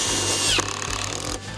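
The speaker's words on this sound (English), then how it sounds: "Make sure and drill straight." A power drill drives a screw into metal during a WeatherGuard installation, a loud steady whirring motor that strains briefly partway through and keeps running close by with no talk.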